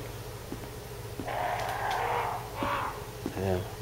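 Crows caw in the Resident Evil Remake video game, harsh raspy calls in two or three drawn-out bursts, fairly loud over a steady low game hum, with a few faint ticks between them.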